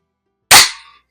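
Single sharp airgun shot at a target, a close, crisp pop that fades within half a second, with no talking around it.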